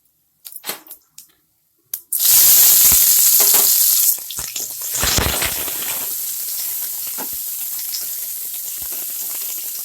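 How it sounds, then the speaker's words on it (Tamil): Onions hit hot oil in a cooking pot for a ham-hock curry: a few clinks, then a sudden loud hiss that settles into a steady close sizzle of sautéing, with no one speaking. "வெங்காயம் நல்லா வதங்கலாம்"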